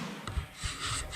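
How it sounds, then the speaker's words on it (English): Sanding on the body of an S13 car gives a brief, close, rough rasping of a few uneven strokes with no talk. "now for the sanding part, which is everyone's favourite bit."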